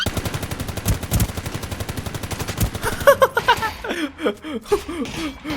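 Rapid automatic gunfire in the battle royale game Ring of Elysium, a dense fast burst of close shots for about three seconds, then scattered shots under excited talking and laughter.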